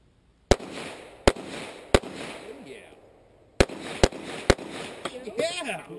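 Single gunshots ring out at a shooting range during a night zombie-themed fun shoot, six sharp cracks spaced irregularly with pauses between, loud and close, while people talk in the background.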